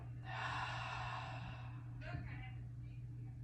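A slow, deep exhale during a guided yoga breathing exercise, a long steady breathy whoosh lasting about two seconds, followed by a softer trailing breath, close and quiet over a low steady hum.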